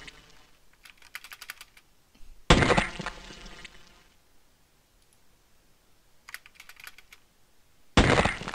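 Bursts of computer keyboard and mouse clicking while playing the Half-Life mod Hazardous Course 2, clusters of rapid taps separated by pauses, with two louder sharp clacks standing out, close and without talk.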